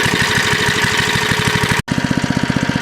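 A 1960s Lil Indian minibike's small engine runs close and loud with a rapid, even putter, briefly cutting out before picking up again with distinct rhythmic pulses.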